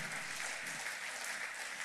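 A church congregation claps for the Lord during a worship service, a steady and fairly faint wash of many hands heard from a distance, continuous with no break.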